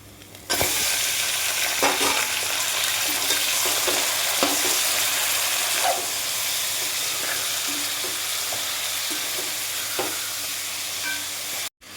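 Chicken and onions sizzle steadily in a pan, a continuous close frying hiss with occasional stirring clicks and pops, no voices, stopping abruptly at the end.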